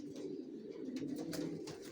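Young racer pigeons in a loft coo softly in a low, continuous rolling murmur, faint and close, with no talking.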